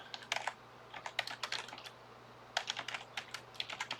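Fingers typing on a computer keyboard, quiet irregular bursts of clicking keystrokes with short pauses between groups, close up over a faint steady hum.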